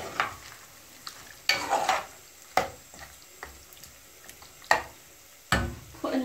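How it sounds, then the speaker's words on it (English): A spoon stirs chicken and onions in a pot for a rice pilau, giving repeated scraping knocks against the pot every second or so over a quiet frying sizzle, close up and without speech. "And give that a good stir, just so all the onions get coated."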